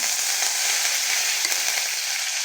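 Mustard seeds, urad dal and curry leaves sizzling in hot oil, a loud, dense, continuous crackling fry close by with faint stirring and no talk.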